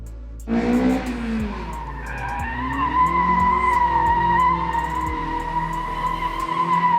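A race car skids through a handbrake turn at the Race of Champions in Mexico City, the engine droning steadily while tires squeal in a sustained, loud screech, close up and without speech.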